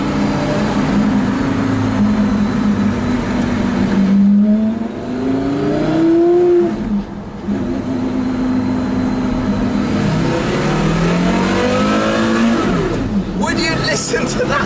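Porsche Carrera GT V10 revving hard and climbing through the gears from inside the car, a clean high wail rising, dipping between shifts and rising again, with someone talking over it.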